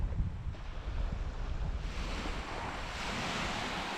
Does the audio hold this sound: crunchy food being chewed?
no